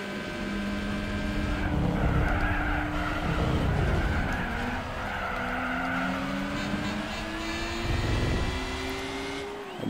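A 1960s Alfa Romeo racing in Gran Turismo 4, its engine note rising and dropping through gear changes with tires squealing in corners, loud and steady throughout.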